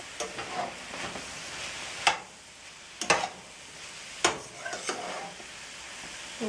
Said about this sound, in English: now again we have to give a quick stir to it